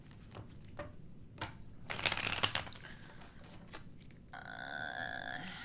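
Tarot cards are shuffled by hand in a series of crisp riffles and papery rustles, fairly close and quiet, ending in a longer buzzing flutter, with no one speaking.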